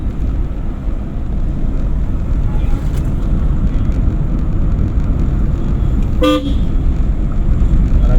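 A single short car horn toot cuts through steady, loud traffic rumble during a driving lesson, with a voice speaking faintly in the background.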